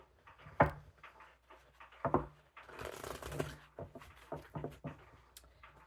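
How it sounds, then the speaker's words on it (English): Tarot cards are shuffled in quick, papery bursts, with sharp riffling snaps and a longer flurry of soft card noise. The sound is close and moderately loud, with no talking. "We'll do 2 more shuffles."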